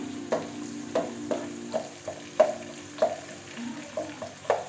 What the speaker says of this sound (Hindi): ऑयल जो है वो हीट हो चुका है। अब हम इसमें प्याज डालेंगे।